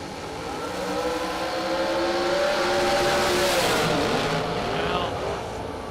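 Drag racing cars launching off the line, including the TNT Dragster, a loud roaring engine sweep rising and passing over several seconds, with a rumbling mix of engines and a commentator talking over it.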